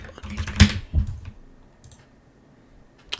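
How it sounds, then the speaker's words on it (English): Quick bursts of clicking keystrokes on a computer keyboard, a dense cluster early on, then sparse taps fading out with a final click; close and fairly loud, no talking. "Maybe because I'm typing too fast."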